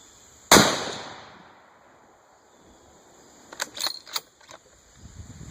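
A single loud, close shot from a Ruger American Predator rifle in 6.5 Creedmoor cracks and rings out into a fading tail, followed a few seconds later by a quick series of metallic clicks.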